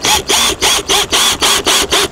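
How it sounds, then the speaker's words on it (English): A power drill driving screws through a furnace strip into an old RV rubber roof, heard as eight quick, evenly spaced whirring bursts with short gaps, close and loud. "And then we'll screw the furnace strip"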